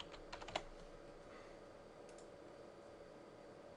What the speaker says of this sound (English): Type in the IP address